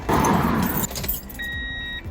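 Car keys jangle briefly near a 2000-06 Toyota Tundra, a loud close metallic rattle at the start, followed by quieter handling sounds and a thin electronic tone.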